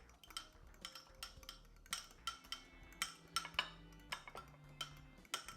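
A metal fork whisking artichoke dip in a dish, quick irregular clinks and scrapes against the bowl, close and fairly quiet, with no talking.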